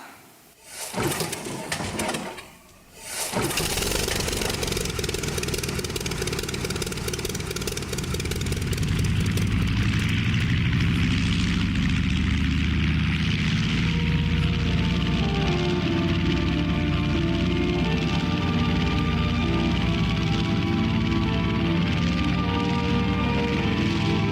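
A propeller aircraft engine sound effect on a theatre stage starts with a few sputtering bursts, then settles into a loud, steady droning roar that builds and holds to the end, with no speech.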